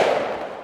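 A single shot from a Ruger American rifle fitted with a Putnik suppressor, heard outdoors. There is a sharp report at the onset, then a muffled tail that decays over a fraction of a second.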